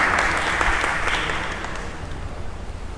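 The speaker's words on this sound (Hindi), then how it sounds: "तो सभी लोग ताली बजा करके महाराज जी को सम्मान कीजिए, ताली बजा के जोर से।" An audience at an evening religious gathering in Haridwar bursts into loud, steady applause that slowly fades over a few seconds, with no talking.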